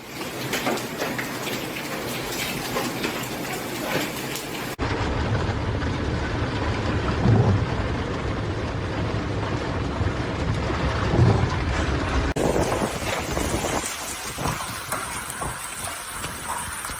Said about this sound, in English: The bad weather was accompanied by hail and heavy rain.